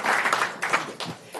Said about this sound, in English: We have a round of applause for Wendell and Anna.